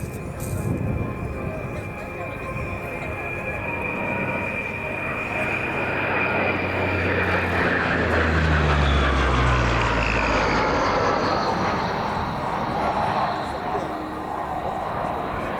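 A French-operated Atlantique maritime patrol aircraft, a type in service since the 1960s, flies at an air show. Its engines make a loud, steady broadband drone that swells toward the middle of the pass and then holds.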